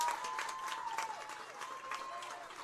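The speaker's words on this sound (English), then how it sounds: "And the crowd shows its approval" A crowd applauding at a college softball game, scattered clapping and cheers from the stands for a few seconds, with a commentator talking over it.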